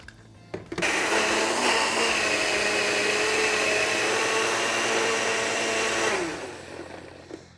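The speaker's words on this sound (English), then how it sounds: "I also like to season while it's in the blender so it can mix up the seasoning fairly well" A bullet blender purees a mixture with olive oil, switching on abruptly with a loud, steady high whir that runs for about five seconds, then winds down and stops, with no talking.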